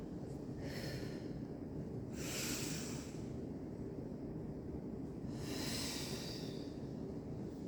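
Slow, deliberate breaths during a seated chair yoga session, with three soft airy inhale and exhale swells rising out of a steady low background hum.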